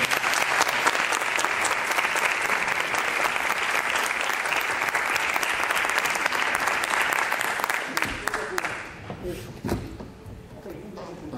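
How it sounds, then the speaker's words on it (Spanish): Steady, dense audience applause at an awards ceremony as Guillermo is called to the stage, clapping loud and continuous before thinning and fading out toward the end, with a little talk heard as it dies down. "Le pedimos un aplauso para Guillermo, por favor."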